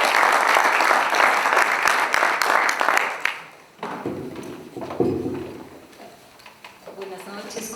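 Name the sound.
audience applause welcoming a speaker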